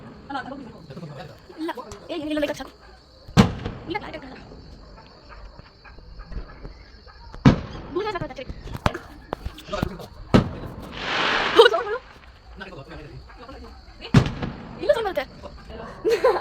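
Firecrackers burst for Christmas in sharp, loud, scattered bangs a few seconds apart, heard outdoors among a chattering crowd and nearby talk.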